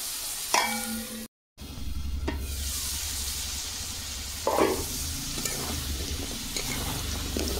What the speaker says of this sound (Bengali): দেখুন গাটি কচু ভাজা হয়ে গেছে, তুলে নেবো।